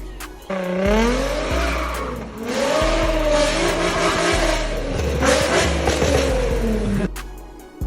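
Infiniti G35 fitted with a Tomei exhaust revving hard, loud rising and falling engine sweeps with tire squeal, close and continuous with no talk.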